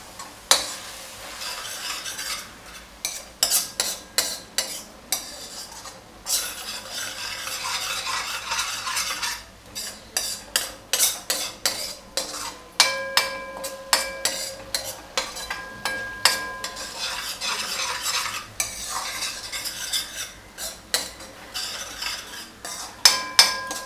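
Cauliflower and peas stirred in a pan with a spoon, irregular scraping and clinking strokes over a low sizzle, close and fairly loud throughout with no voices.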